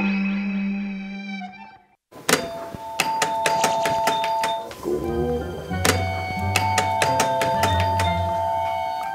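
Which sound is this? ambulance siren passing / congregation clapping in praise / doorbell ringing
doorbell ringing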